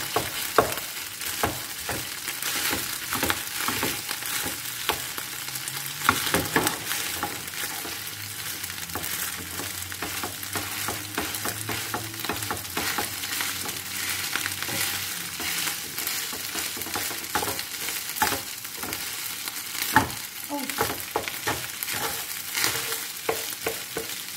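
Fried rice frying in a pan while being stirred, a continuous low sizzle broken by frequent scraping and clacking of the utensil against the pan, steady and close with no talk.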